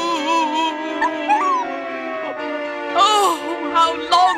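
A small puppy whimpering and howling in a high, wavering voice, with rising and falling cries and short yips in close succession, fairly loud and near, over faint background sound.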